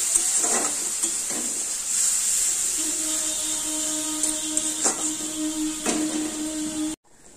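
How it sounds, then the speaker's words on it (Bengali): Spice masala with a little sour yogurt being sautéed and stirred in hot oil, a steady close sizzle with occasional scraping strokes of the spoon, a low hum running underneath, ending abruptly. "আবার মশলাটাকে পুরো ভালো করে কষাতে হবে যতক্ষণ তেল তেল না বেরোবে"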